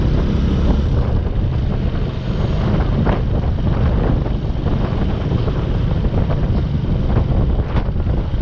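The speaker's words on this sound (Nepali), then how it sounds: "zoom गर्दै हावा आउँछ है गाइस" Strong, steady wind roars across the microphone of a moving motorcycle, a continuous loud low rumble with no pauses.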